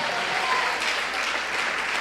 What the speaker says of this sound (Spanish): ¿Cuántos dan ese fuerte aplauso al Señor?